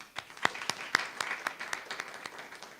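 A church congregation gives light, scattered applause for a clarinet player, individual claps spaced out and fairly faint, with no voices over it.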